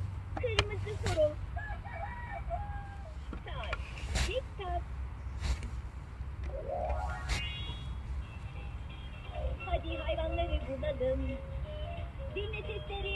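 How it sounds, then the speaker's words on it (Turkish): A red rooster voiced by a Chicco Turkish-speaking talking farm toy, crowing several times with drawn-out, rising and falling calls and some clucking, mid-distance over a constant low hum. "Kırmızı horoz."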